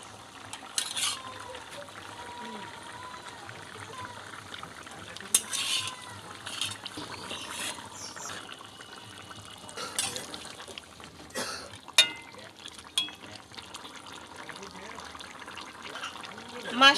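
Water for a tangra fish curry with spring onion greens bubbles steadily in a pan, a low continuous simmer with scattered louder pops and clinks, while a person talks intermittently over it.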